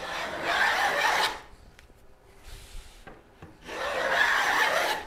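A hand plow plane cuts wood in two long rasping strokes, one at the start and one near the end, with a quieter pause between them broken by a few faint knocks.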